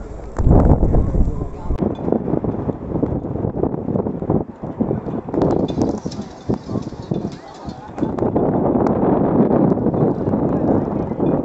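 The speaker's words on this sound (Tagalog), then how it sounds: "Ang hangin lang siya." Gusty wind buffets the microphone in uneven bursts in a city street in Gijón, Spain, with a voice speaking briefly over the rumble.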